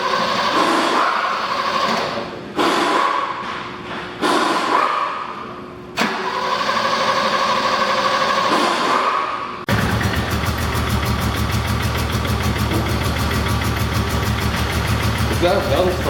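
A 1982 BMW 323i E21 turbo engine cranks with a loud churning starter in several bursts, then catches and settles into a steady, rough, throbbing idle, close and loud.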